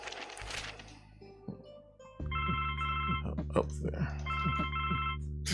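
A telephone rings in The Blackwell Legacy video game, a repeated electronic ringing pattern in two bursts over a low steady hum, while a person speaks briefly before it starts.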